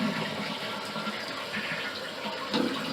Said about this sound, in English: Now when we depress the handle here, see the flapper goes up